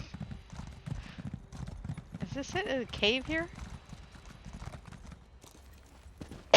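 Horse hooves clip-clopping in a video game, a steady trotting rhythm throughout with a brief whinny in the middle, heard under a man's speech.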